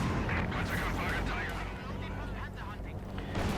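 Mortar fire in Company of Heroes 2, a 1v1 match, sounds as a dense, continuous rumble of artillery booms and battlefield noise, loud and unbroken, with a voice talking over it.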